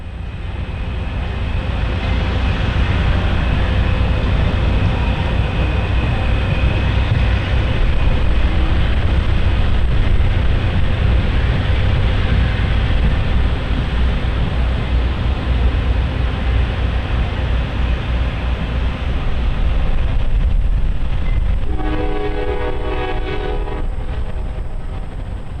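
Amtrak Crescent passenger train rounding a curve south of a station and passing Norfolk Southern freight train 244, a loud sustained rumble of wheels and cars close by, with a horn sounding near the end.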